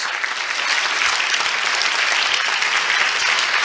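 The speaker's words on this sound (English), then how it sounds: "Can we give them a round of applause?" A crowd at a political talk honors veterans with loud, dense applause that carries on without a break.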